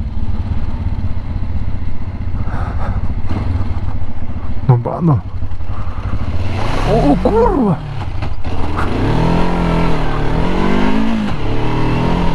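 Kawasaki KLE500 enduro motorcycle, a 200 kg bike, being ridden off-road near a small bridge and stream, its engine droning and revving steadily throughout while someone talks and exclaims over it.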